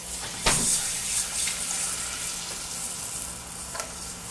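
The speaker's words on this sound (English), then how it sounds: "then we're going to add milk." Milk is poured into melted butter in a pan over a low to medium flame, with a brief splash followed by a steady, soft sizzle close by.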